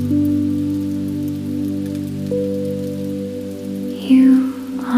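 Steady, soft rain falls through a quiet Tokyo night, a continuous even hiss with a low, sustained hum beneath it, and a brief swell of louder splashing near the end.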